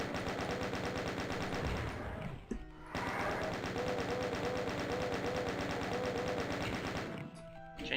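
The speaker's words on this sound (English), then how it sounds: "Chain gun really wrecks revenants, but only when you have the time, because it does take quite a bit." Rapid, continuous chain gun fire tearing at revenants in Doom 2, a dense mechanical rattle of shots with a brief pause partway through before the barrage resumes, loud and up close.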